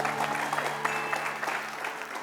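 A courtroom-style audience clapping together, a brief, moderately loud burst of many hands with a few sharper claps standing out.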